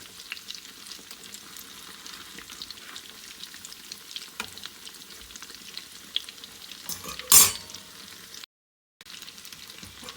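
Spicy potato nuggets fry in hot oil with a steady fine crackle, a brief louder spike of stirring or turning, then a short silent gap before the sizzle resumes.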